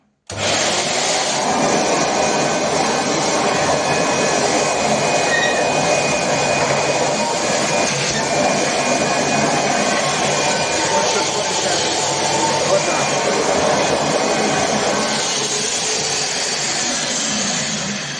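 A Thomas AQUA vacuum cleaner in its dry suction mode runs over dirty laminate flooring, giving a steady, loud, broadband whine with a faint tonal hum that holds unbroken for the whole stretch, with no talk over it.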